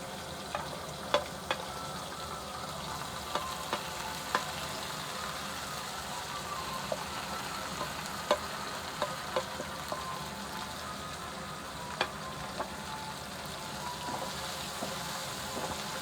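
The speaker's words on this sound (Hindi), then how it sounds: "एक मिनट हम इसको फ्राई कर लेंगे।" Cumin, tomatoes and green chilies fry in a pan for chana chaat, a steady low sizzle broken by scattered sharp clinks of a utensil stirring, with no talking.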